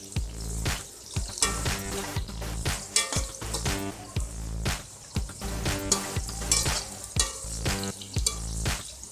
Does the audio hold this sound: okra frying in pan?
yes